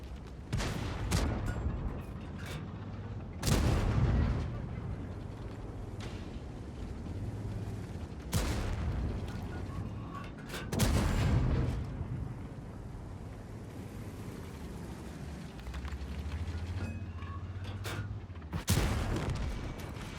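Cannon shots fire in a tank battle video game, several heavy booming blasts spaced a few seconds apart, each with a sharp onset and rumbling decay, over a steady low engine drone with no talk.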